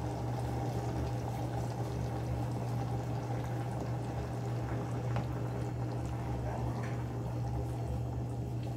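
Five raw eggs slide into a pot of simmering rooster comb broth, giving a soft pouring splash over the steady low bubbling and hum of the simmer, close but quiet.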